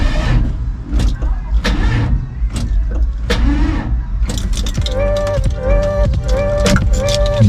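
A car with a rebuilt 4L60E automatic transmission and a Sonnax performance shift kit runs nearby, its engine humming steadily with mechanical clicks and a whining tone, while someone talks over it.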